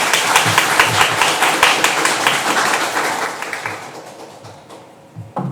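A lecture audience applauds to welcome a speaker, dense close clapping that holds steady and then tapers off into a few scattered claps.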